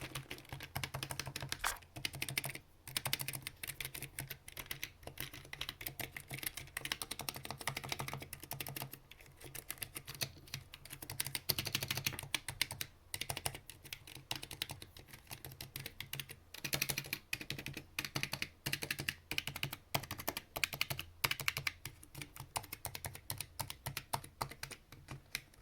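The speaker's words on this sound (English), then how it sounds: "Alright, I'm going to do a quick typing test." Fast typing on a Razer Huntsman keyboard with linear switches, a dense run of light, rapid keystrokes with short pauses, close and clear with no talking.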